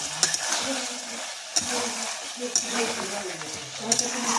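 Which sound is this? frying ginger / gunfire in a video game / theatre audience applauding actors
frying ginger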